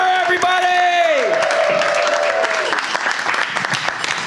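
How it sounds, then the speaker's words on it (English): Comedy club audience bursts into loud, sustained applause and cheering for a stand-up comedian taking the stage, with a sliding tone briefly sounding over the clapping. "Start clapping for the very funny Arko Mazumder, everybody!"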